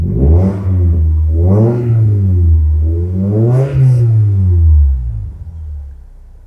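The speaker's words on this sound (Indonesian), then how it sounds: "Kita dengerin ya suara knalpotnya." A 1997 second-generation Toyota MR2 fitted with an HKS exhaust revs up in two or three loud swells, its deep, rounded exhaust note rising and falling close by with no talking.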